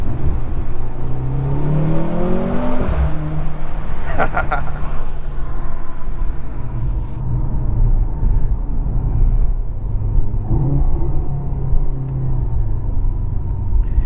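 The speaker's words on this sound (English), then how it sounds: "let's try out the tunnel. Let's see how it sounds in there." A 2023 Mercedes-AMG C43 sedan's engine rumbles loudly and revs up inside a tunnel, echoing, with rising and falling pitch sweeps before settling into a steady drone.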